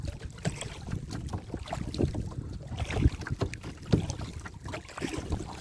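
Steady headwind buffeting the microphone during solo kayaking on a provincial park lake in fall, a rough low rumble with gusty surges and faint paddle and water sounds mixed in, continuous throughout.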